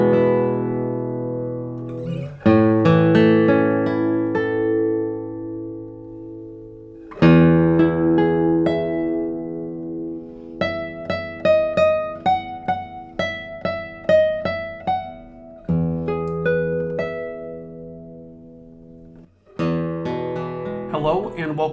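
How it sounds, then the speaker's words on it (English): A brand-new 2025 Andreas Kirschner cedar doubletop classical guitar is played solo and close, with warm sustained chords followed by plucked melodic notes in a steady rhythm. "Remember, this is a brand new guitar that sounds like this."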